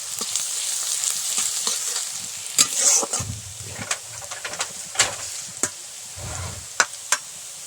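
Onions frying in a pan in a village kitchen, stirred now and then: a steady close sizzle with scraping strokes and sharper clinks of the spoon against the pan, and no voices.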